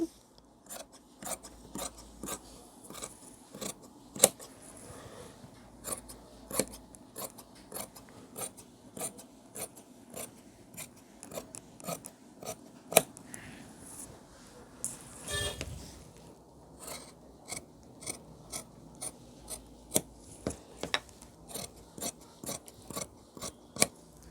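Tailor's scissors cutting uniform coat fabric along a chalk-marked line, as a steady series of crisp snips repeating at an even rhythm, close but quiet, with no talk.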